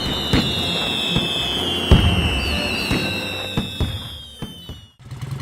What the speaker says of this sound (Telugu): పెద్దవాళ్లు బోలెడు టపాసులు కొనిచ్చారు. రాము సోములు కలిసి వాటిని కాలుస్తూ ఎంతో ఆనందంగా గడిపారు.